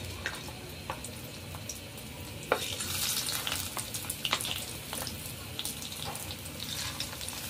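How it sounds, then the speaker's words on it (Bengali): Fish roe from shing fish dropped into hot oil in a frying pan, giving a dense, continuous crackling sizzle that swells louder after a sharp splash of contact, with scattered pops throughout. "তেলটা আমার গরম হলে ডিমগুলো ছেড়ে দিব। এই যে আমি ডিমগুলো ছেড়ে দিচ্ছি।"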